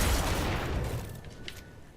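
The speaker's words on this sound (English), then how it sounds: "I have a very, very freaking powerful hand cannon" A single heavy hand cannon shot in Destiny 2 booms loudly at the start and then trails off in a fading echo over about two seconds.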